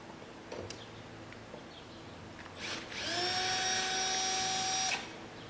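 A Milwaukee power drill drives screws, a short whir early on, then a loud sustained whine of about two seconds near the mic, ending abruptly, with quiet room noise between.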